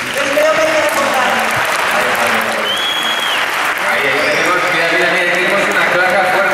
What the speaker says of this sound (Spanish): Ya puedes aplaudir hasta que te reviente las manos